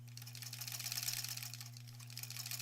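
A sewing machine stitches quilt fabric in a fast, steady rattle of needle strokes over a constant motor hum, close and continuous, with no talking.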